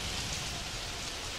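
Steady, dense rain hiss from Super Mario Odyssey, an even wash of falling drops and spatter with no talk, constant and close throughout.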